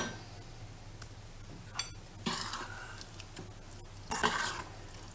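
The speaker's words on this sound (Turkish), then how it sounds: "Şöyle bir karıştıralım." Cauliflower stew being stirred in a pan with a utensil, soft scraping and occasional sizzle over a low steady hum, with a few louder scrapes.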